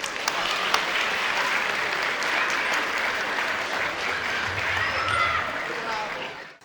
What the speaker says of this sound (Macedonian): Уште еднаш аплауз за Јана.